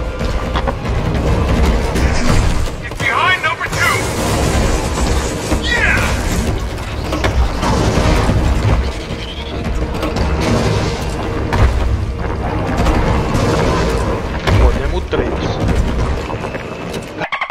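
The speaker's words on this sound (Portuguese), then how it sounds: "eu vou dar tiro de Magnum" Magnum revolver shots in Resident Evil 3 Remake ring out as heavy booms within a loud, dense mix of game sound and ongoing talk, several blasts spaced across the stretch.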